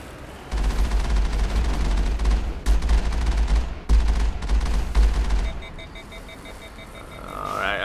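Rapid, sustained bursts of gunfire from the Mako vehicle in Mass Effect hammer on for several seconds with short gaps, then cut off, leaving quieter game ambience and electronic tones.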